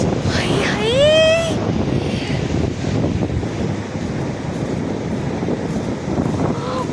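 A windy beach with surf: steady wind buffeting the microphone over a low wash of waves, with a shrill whistle-like tone near the start and a voice talking.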